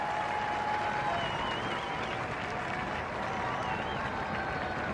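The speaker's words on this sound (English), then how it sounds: "the Queen acknowledges the support and the applause of the big crowd who gathered here outside" Sustained applause from a large crowd gathered outside Buckingham Palace after Trooping the Colour, a steady dense wash of clapping and cheering with faint murmured voices mixed in, continuous throughout.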